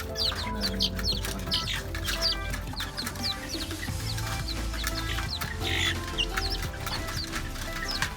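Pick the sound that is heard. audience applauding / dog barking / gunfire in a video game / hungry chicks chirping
hungry chicks chirping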